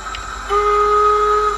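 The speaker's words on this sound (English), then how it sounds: "We're just going to run a little whistle sound." A steady, shrill steam whistle from a Hornby Black 5 model locomotive's DCC sound unit blows continuously for over a second, loud and close, starting abruptly after a brief low rumble.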